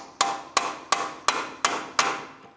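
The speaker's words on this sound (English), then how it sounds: "Use a hammer and a punch. Go ahead and drive this through." Six sharp metallic hammer blows strike a punch at an even, steady rhythm, each ringing briefly before the next, driving through the axle nut while replacing a CV axle on a 1999-2003 Toyota Solara.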